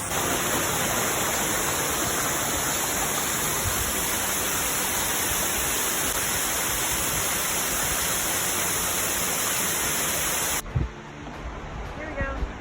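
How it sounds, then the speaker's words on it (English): A waterfall on the Collins Gulf trail between Suter Falls and Horsepound Falls roars as a steady, loud, broad rush for most of the stretch, then cuts abruptly to quieter ambience near the end. "Waterfalls."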